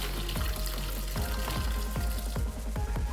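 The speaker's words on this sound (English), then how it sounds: "I'm going to drain this in a sieve" Soaked beans are drained through a sieve, with water pouring and splashing steadily alongside a series of soft, irregular thuds and knocks, close and moderately quiet.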